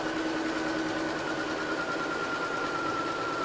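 A sewing machine stitches a quilt block with a steady, continuous whir, close and even throughout with no pauses and no talking.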